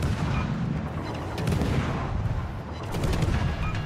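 Naval guns in a warship video game fire at a destroyer in a dense, continuous barrage of booming shots and rumbling impacts, loud and sustained.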